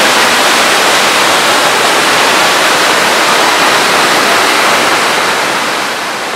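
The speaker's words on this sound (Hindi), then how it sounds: "आप देख सकते हैं वाटरफॉल, ये रहा वाटरफॉल" Bhatta Falls near Mussoorie roars steadily and loudly up close, a dense unbroken rush of falling water with no voices over it, easing slightly in the final moment.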